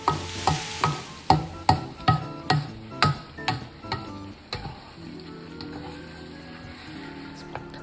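Beef with turmeric in a stir-fry pan, Thai basil beef, with a run of about ten sharp rhythmic scraping strokes of a spatula on the pan followed by a softer sizzle, no talk.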